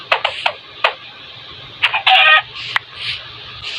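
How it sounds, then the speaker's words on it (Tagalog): A Minecraft chicken clucks in short, sharp bursts, with a louder squawk in the middle, close and clear over quiet background. "Uy, manok ba to?"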